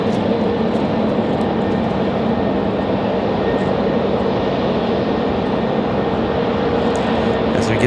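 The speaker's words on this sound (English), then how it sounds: "Get the 737 of Delta on the move." A Delta Boeing 737 moves along a taxiway at Raleigh-Durham airport, giving a steady, even jet engine hum at moderate distance with no breaks.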